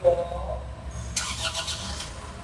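A 2026 Isuzu Traga pickup's diesel engine cranks and turns over with a brief rattling start, then settles into a low rumble.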